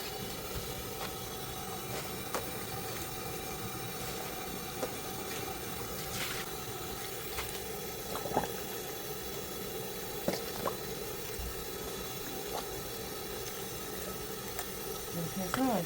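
Gamjatang, a Korean pork bone stew with potatoes, perilla leaves and green onion, simmers in a pot as a soft, steady bubbling with occasional small pops and clinks under quiet room noise.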